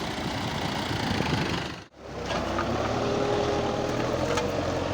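A tractor engine runs steadily while disking a field, a loud continuous drone with a brief dip partway through before resuming at full strength.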